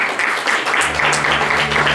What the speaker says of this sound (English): Give him a long round of applause